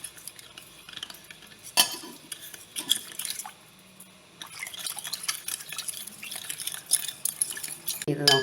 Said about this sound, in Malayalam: അപ്പോൾ ഇത് നന്നായിട്ടൊന്ന് ഇളക്കിയിട്ട് 10 മിനിറ്റ് അടച്ചു വെക്കണം.